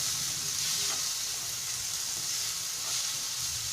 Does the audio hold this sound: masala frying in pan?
yes